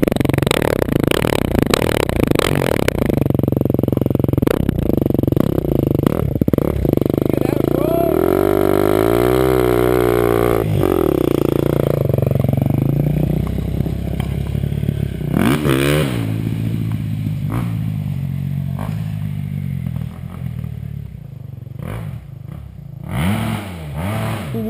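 A HusakaBee motorcycle at a hill climb is started and revved hard nearby, its engine rising and falling in loud sweeping pitch changes with clattering mechanical noise throughout.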